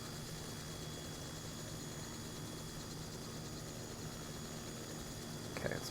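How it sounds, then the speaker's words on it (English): A helicopter's rotor and engine in the Helicopter Simulator game drone steadily as it tries to land on a ridge, a low, even, faint hum with a brief bump near the end. "I got my hands full with a helicopter that I'm trying to land"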